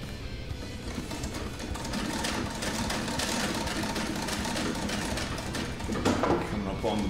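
A 1910 sewing machine stitches through jeans denim with a fast, steady mechanical clatter of needle and motor that runs throughout, close and fairly loud.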